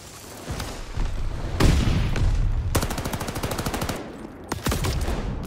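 Call of Duty Vanguard gunfire rattles through several bursts, with sharp single shots giving way to a rapid, steady automatic volley lasting over a second, then more scattered shots, all close and loud.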